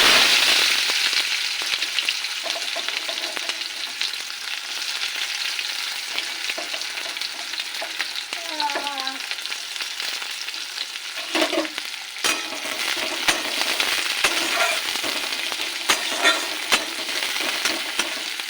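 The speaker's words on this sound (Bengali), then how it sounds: "তেলে দেবো একটু কালো জিরে ফোড়ন দিয়ে দেবো পেঁয়াজ" Chopped onions frying in hot oil with a nigella seed tempering make a loud, steady sizzle close by, with occasional utensil clatter and stirring.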